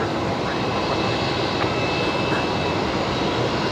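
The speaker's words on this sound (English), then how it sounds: "That's a Dash 8 heading off to Canberra tonight. Going to make a departure from the Alpha 4 intersection" A Dash 8 turboprop departs Brisbane Airport at night from an intersection far down the runway, heard as a steady, fairly distant engine drone under a broad wash of noise.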